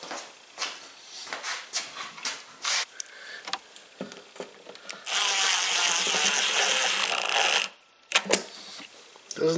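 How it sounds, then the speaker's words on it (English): A screw being driven into a plastic part of a Craftsman push mower during a V-belt repair, heard as a loud, steady whirring drive lasting about three seconds, preceded by scattered clicks and handling noises. "Doesn't need to be tight because you're just screwing into plastic."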